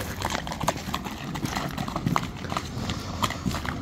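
Hooves of a tall two-year-old horse clip-clop in a quick, even rhythm on hard ground, close and clear, with faint background murmur but no clear speech.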